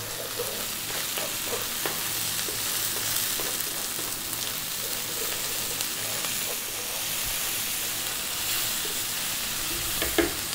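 Garlic-ginger paste and salt frying in a pan for matar paneer, a constant loud sizzle with occasional scraping of a spoon as it is kept moving, no talk.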